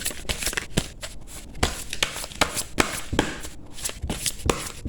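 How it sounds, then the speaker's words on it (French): Playing cards shuffled by hand in a quiet room, a run of crisp riffling bursts and soft slaps repeating steadily for several seconds, close and alone. "Je vais mélanger."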